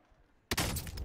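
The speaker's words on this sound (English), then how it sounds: "they're trying to snipe me, but they're missing all their shots" A sudden loud crack of sniper gunfire in Call of Duty breaks a near-silent moment, followed by a short burst of rattling shots and echo.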